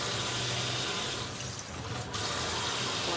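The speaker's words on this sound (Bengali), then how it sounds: "এবার এই খইগুলো নোংরা যদি থাকে সেগুলো একবার ধুয়ে নেবো" Puffed rice being washed in water, with a steady close rush of running water that dips briefly before continuing.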